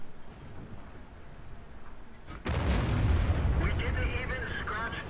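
A tank cannon in the World of Tanks video game fires one sudden, loud boom midway, breaking a quieter background hum and leaving a heavy rumble that lingers to the end.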